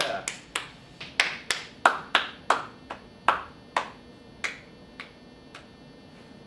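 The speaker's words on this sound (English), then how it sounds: "Give yourselves a round of applause right now." A few people clapping in sparse, uneven claps that slow and thin out, close and fairly loud, with no talking over them.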